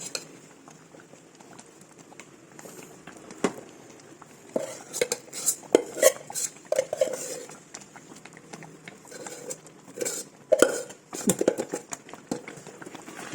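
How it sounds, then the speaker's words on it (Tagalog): A utensil stirs and scrapes thick sticky rice cake (biko) around a pan, irregular clinks and scrapes in bursts near the microphone, with soft background murmur. "Continue naman tayo. Halo-halo. Para patutuyo rin."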